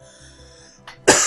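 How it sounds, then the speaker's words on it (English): A single sharp cough bursting out near the end of a quiet stretch during a podcast recording, close to the microphone, preceded by a short breathy throat sound. "I got a cough."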